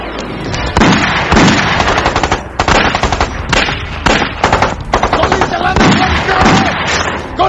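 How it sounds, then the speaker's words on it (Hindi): Sustained machine-gun fire in a Hindi action film scene with Aamir Khan, loud rapid bursts with brief pauses over a dense roar, continuous for several seconds. "कहो गोली चलाना बंद करें। हाँ हुकुम। बंद करो फायरिंग।"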